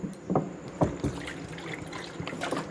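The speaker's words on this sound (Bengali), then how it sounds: "নেড়ে চেড়ে নিয়ে এবার জল দিয়ে দেবো।" Water is poured into ghugni, a dried-pea curry, in a cooking pan, with a few close splashes and trickles in short uneven bursts.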